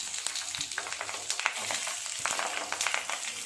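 Prawn paturi parcels frying in hot oil, a steady bright sizzle with scattered pops and crackles running throughout at close range, no voices.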